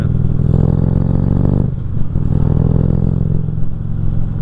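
A Harley-Davidson Street Glide CVO's 110 cubic inch Twin Cam engine rumbles loudly up close, revving in deep throbbing pulses with a brief dip before building again.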